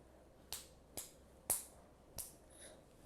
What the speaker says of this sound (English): make sure you clap 2 or 3 times